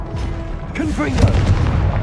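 A Confringo fire-blast spell goes off in Hogwarts Legacy as a deep booming explosion with a rumbling low tail, while a voice calls out over it.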